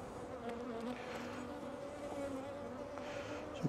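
Honeybees buzz steadily at an opened hive during an autumn colony check, a low continuous drone with individual bees flying close past now and then, no talking.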